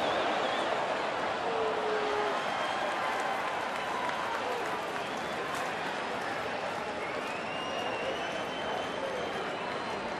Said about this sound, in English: And the crowd getting it cranked up again.